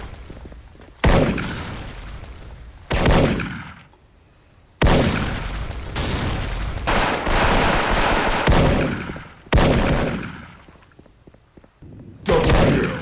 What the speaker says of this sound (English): The old sniper noise from the shots, the little headshot noise.